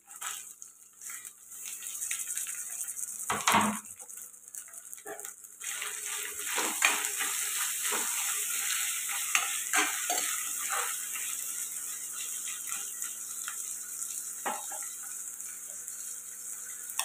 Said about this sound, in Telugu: ఇప్పుడు టమాటో వేసుకుందాం